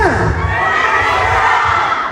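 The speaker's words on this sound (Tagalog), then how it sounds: "Tatlo lang yung sumigaw." A group of people shout together loudly and close by at an outdoor community gathering in San Ricardo, Southern Leyte, a sustained burst of raised voices lasting about two seconds.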